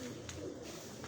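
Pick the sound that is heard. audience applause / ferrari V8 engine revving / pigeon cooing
pigeon cooing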